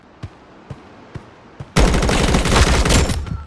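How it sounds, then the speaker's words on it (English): Rapid automatic gunfire in the video game Blackhawk Rescue Mission 5, a few spaced single shots followed by a loud, sustained burst of fast fire close by. "Good thing this gun shoots fast."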